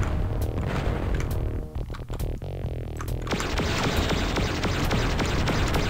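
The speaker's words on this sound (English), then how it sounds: "Wait, I hear a missile?" A missile explosion in the shooter Descent, with deep booming thuds and a throbbing hum, a flurry of sharp impacts midway, then a sustained rumbling wash of noise with scattered clicks.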